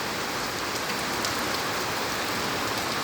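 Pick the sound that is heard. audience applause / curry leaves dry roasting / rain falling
rain falling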